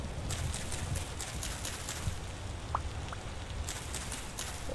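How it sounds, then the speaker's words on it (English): Gentle rain in the video game Vintage Story, a soft steady patter with scattered drop taps, fairly faint and continuous with no talking. "Welcome to a rainy vintage story."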